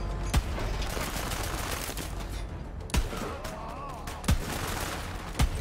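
Scoped revolver gunfire in Borderlands 3, four sharp, loud single shots spaced about one to one and a half seconds apart, each with a short decay, over a constant game background with faint mechanical sounds.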